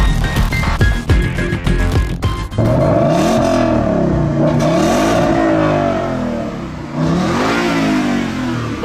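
A Ford Mustang GT with its 5-liter V8 revs and accelerates hard, a loud close engine note rising and falling through the gears as it pulls away.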